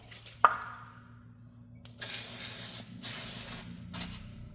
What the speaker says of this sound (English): let me just spray